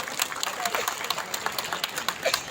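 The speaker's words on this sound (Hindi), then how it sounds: "जोरदार तालियां हो जाए" A crowd at a Sai Baba devotional gathering claps in a lively, uneven burst of applause, fairly close, with a voice talking over it.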